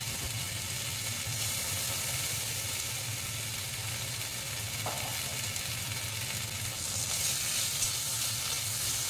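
Ginger paste, dried red chillies and a slit green chilli sauté in hot oil in a pan, making a steady, dense sizzling hiss close by with one brief stir partway through.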